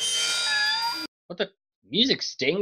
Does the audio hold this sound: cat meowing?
yes